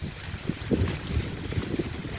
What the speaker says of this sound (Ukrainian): Щось у нас знову вітер розбирається